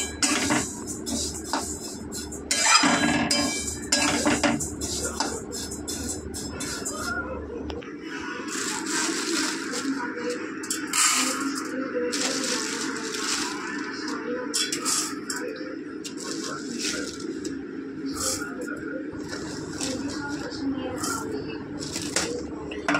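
Rice and lentils in equal amounts dry-frying over a low flame in a pan, with soft scraping, stirring clatter and faint crackling heard close, while someone talks throughout.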